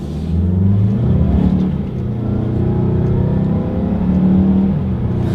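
A 2020 Mazda CX-5 accelerates hard from inside the cabin, its engine note rising steadily and holding loud and close, with slight dips where the transmission shifts.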